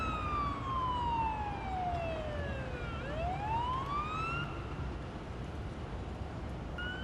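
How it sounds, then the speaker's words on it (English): An ambulance siren in the Ambulance Life paramedic simulator game wails in long sweeping rises and falls, loud and steady, over a dull road rumble. "Use the siren as needed."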